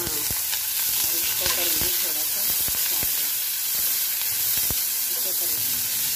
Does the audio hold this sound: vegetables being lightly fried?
yes